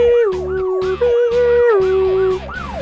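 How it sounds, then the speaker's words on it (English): A loud, close emergency vehicle siren wailing in repeated rising and falling sweeps over a steady tone, with no voices. "That's the siren."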